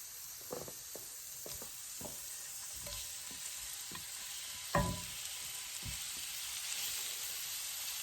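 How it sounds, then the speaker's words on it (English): Shrimp hit a hot skillet on medium heat for Cajun-style shrimp and grits, setting off a steady frying sizzle broken by several sharp crackles and pops, one louder burst near the middle as more pieces drop in. "Then we're going to drop our shrimp in."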